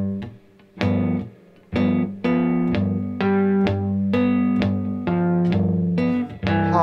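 A three-string cigar box guitar plays a 12 bar blues phrase, strummed chords struck in a steady rhythm with a brief gap after the opening note, close and fairly loud, with no speech.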